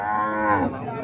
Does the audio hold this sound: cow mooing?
yes